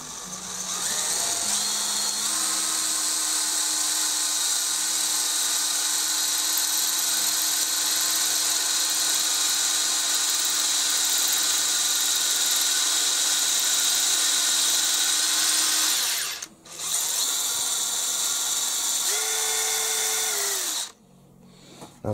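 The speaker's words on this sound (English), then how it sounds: "Tapping drill." A tapping drill whirs steadily at close range for about fifteen seconds, stops briefly, then runs again in a shorter burst before cutting off.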